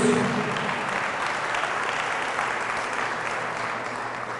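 Steady applause from a church congregation at a Pentecost Mass, a dense, even wash of clapping that holds at a constant level for the whole stretch with no talking over it.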